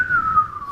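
A person whistles one short, clear note that glides slightly downward and lasts under a second, heard alone over faint background noise.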